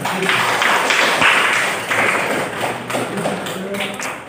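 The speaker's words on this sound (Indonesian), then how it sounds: "tepuk tangan buat Rizka" Classroom students give a student a round of applause, a dense, continuous patter of clapping at moderate level with a few louder thumps and some voices mixed in.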